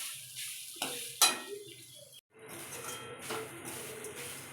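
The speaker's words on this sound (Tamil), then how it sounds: "இப்போ இதை வந்து நல்லா வதக்கிக்கலாம்." Grated coconut is sautéed in a pan over a low flame, a soft sizzle under scraping and clinking stir strokes with a sharper metallic clatter near the start, quiet and close-up, no one speaking.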